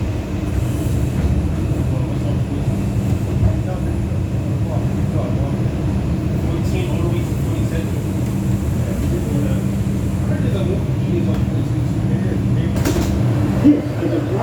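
A New York subway 2 express train runs with a steady, loud rumble and rattle of rail wheels heard from inside a car, broken by occasional squeals and clanks.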